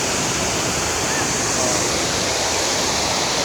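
Strong river or falls water at Mabuslo in Bambang, Nueva Vizcaya, rushing loud and steady from nearby as a dense broadband roar that holds without a break throughout.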